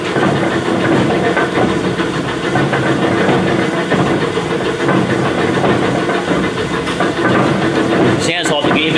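A Lee & Hunt vertical slotter runs with a loud, steady mechanical rumble from a flywheel that has run-out and may lack mass, with imperfect gear mesh. The din is continuous throughout, with a brief sharper clatter near the end.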